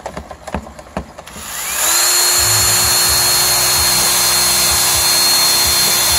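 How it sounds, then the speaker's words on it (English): A homemade motorized wire brush set up as a bench grinder, first clattering and knocking, then spinning up at about two seconds into a steady, loud, continuous whine that holds to the end, alone with no talk. "Hillbilly bench grinder."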